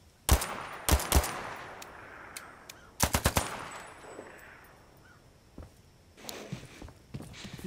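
Bursts of automatic gunfire in the Zero Caliber shooter game, with several sharp clustered volleys near the start and middle and fainter scattered shots later, with no talking.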